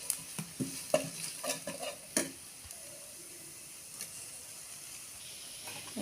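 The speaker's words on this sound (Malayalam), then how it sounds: "ഇത്രയും ചേർത്തൊന്ന് വഴറ്റിയെടുക്കാം." Onion sautéing in a pan with turmeric, chilli and coriander powder for pappadam curry, a steady soft sizzle broken by a run of scraping spatula strokes early on, then quieter frying alone.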